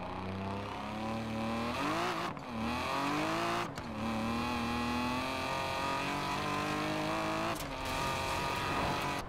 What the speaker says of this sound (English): Look how fast this BRZ goes.